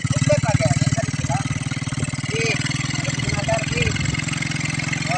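A motorcycle engine idles and runs steadily nearby while someone learns to ride it, keeping a constant low throb with slight rises in revving, under faint voices and a few scattered bird chirps.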